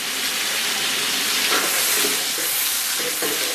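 Soy sauce hits a hot wok of fried chili bean paste, a steady loud sizzle and hiss with faint stirring scrapes mixed in, alone without talk.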